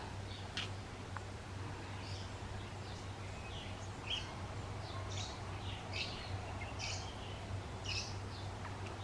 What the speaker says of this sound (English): Can you hear my birds outside?